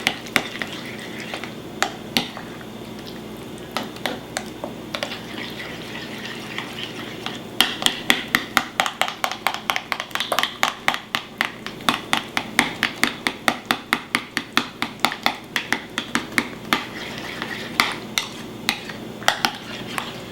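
Utensil clicking against a bowl while homemade ranch dressing is mixed, with a rapid run of taps and scrapes that grows steadier and busier partway through, close and moderately loud.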